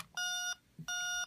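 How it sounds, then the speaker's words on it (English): Two evenly spaced electronic beeps from the small built-in speaker of a homemade record player, each a bright, sustained tone of about a third of a second, clear and close, with no talk. "There's my alarm."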